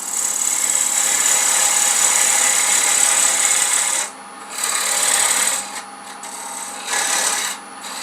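Lathe tool cutting into wood while turning a loom pulley, a steady close scraping rasp that pauses briefly several times as the tool is repositioned, with no talking.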